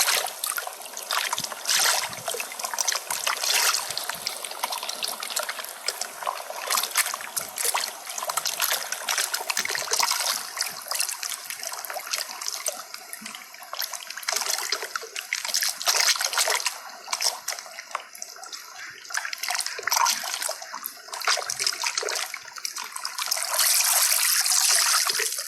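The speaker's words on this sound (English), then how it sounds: "Here you can see that how water is coming out through its opening." Water pours and trickles steadily out through an opening, a continuous bright splashing flow heard close up for the whole stretch, with no one speaking.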